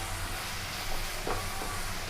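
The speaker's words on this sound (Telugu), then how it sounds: "ఇప్పుడు ఇవన్నీ కొద్దిసేపు వేగనివ్వాలి." Ground spices sizzling in hot oil in a pan while a fish curry is being cooked, a steady close hiss and crackle with a few light stirring scrapes.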